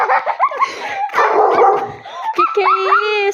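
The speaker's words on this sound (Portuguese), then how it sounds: "Com medo do cachorro." Dogs barking and yipping on a street in Peirópolis, several short sharp barks and whimpers close by, mixed with excited overlapping voices of people talking and exclaiming throughout.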